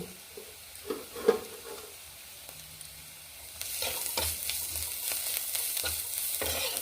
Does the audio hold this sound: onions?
yes